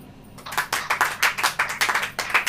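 A church congregation at a sermon claps in brisk rhythmic unison, sharp close bursts following one another quickly after a brief quiet start.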